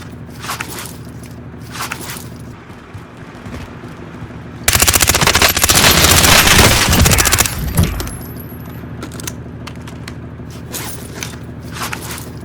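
A Purgatory ISO machine gun in Call of Duty Warzone fires one long loud burst of about three seconds in rapid automatic rounds, set between quieter stretches of game ambience and mechanical clicks.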